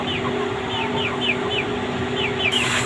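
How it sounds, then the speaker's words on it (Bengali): Malaysian chickens on a poultry farm give repeated short clucks and calls over a steady background hum, at close to medium distance, with no clear speech. "খামারের বড় মুরগিটা"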